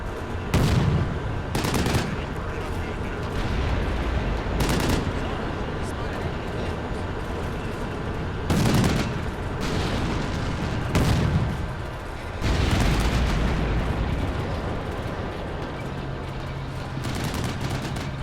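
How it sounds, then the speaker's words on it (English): In a military video game, a tank's main gun fires at another tank while the commander's .50 cal machine gun fires at infantry: heavy booming blasts and bursts of gunfire ring out over a continuous loud rumble, with a voice talking throughout. "you'll see the main gun is attacking a tank, while the tank commander is attacking infantry with the 50 cal separately"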